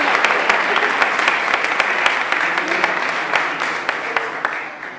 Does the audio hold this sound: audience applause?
yes